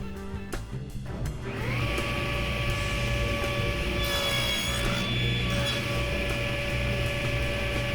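A power saw spins up and whines steadily through a shoulder cut in wood for a lap joint, a sustained high tonal drone with rough grinding underneath, after a few brief knocks at the start.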